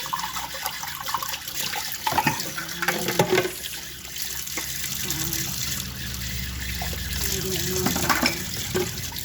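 Tap water runs at a household sink while dishes are washed in a rural home, a continuous splashing stream broken by clinks and sloshes of handled dishes, with occasional quiet voices in the background.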